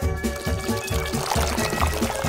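Water poured in a steady stream, a continuous gurgling splash with a rhythmic, pulsing texture, close and fairly loud throughout the short stretch.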